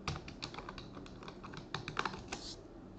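Computer keyboard typing on a Windows 10 machine, a quick run of close, crisp key clicks tapping in an irregular rhythm for a few seconds with no talking.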